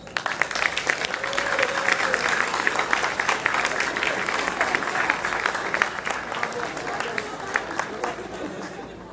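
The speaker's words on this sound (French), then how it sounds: "Applaudissez les professeurs, s'il vous plaît." Graduation-ceremony audience applauds the teachers after an electromechanics graduate's speech; sustained crowd clapping with chatter and voices mixed in, steady throughout and easing slightly toward the end.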